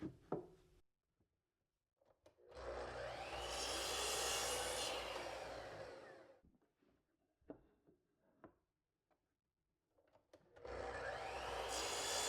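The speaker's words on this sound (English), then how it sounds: "The saw is set at a 45-degree angle, and I'll cut a 45 on each side at the bottom of the leg." A miter saw set at 45 degrees cuts the bottom of a wooden leg twice: two loud whirring bursts with the blade spinning up and winding down, separated by quiet handling clicks and knocks, heard fairly faintly overall.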